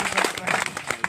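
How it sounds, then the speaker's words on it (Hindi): Applause from a crowd at a public gathering, a dense patter of many clapping hands, moderately faint and steady, with scattered sharper claps standing out. "एक बार उनके लिए दोनों हाथ खोलकर तालियां बजाएं"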